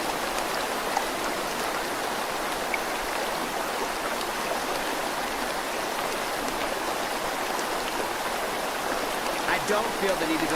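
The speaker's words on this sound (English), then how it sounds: "It's a pretty beautiful river," A river flows without a break, giving a constant broadband rush of water that holds steady at a moderate level from start to finish with no voices.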